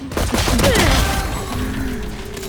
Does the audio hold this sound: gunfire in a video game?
yes